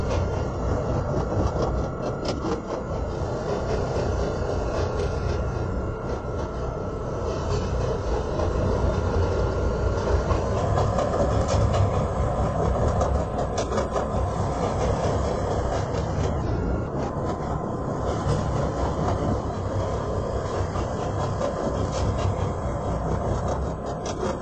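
A CTA Pink Line train runs through the Loop in a Roblox game, giving a steady, loud rail rumble and hiss that continues unbroken throughout.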